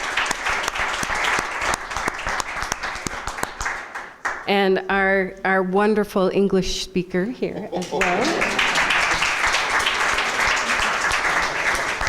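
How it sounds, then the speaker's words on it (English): An audience at a Sierra Club gathering on Northern Pass and the Pessamit Innu First Nation applauds a volunteer translator; thick clapping fills the room, dips while someone speaks briefly over it, then swells again. "Let's give him a round of applause."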